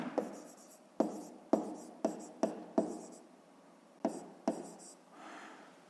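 Pen writing a fifth-grade geometry exercise by hand on paper, a series of short scratchy strokes with brief pauses between them, close and fairly quiet, with no talk.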